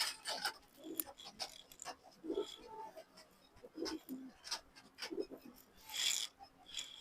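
Racing pigeons at a keeper's house give faint, soft coos amid scratchy rustling and shuffling nearby, with low murmurs of talk in the background.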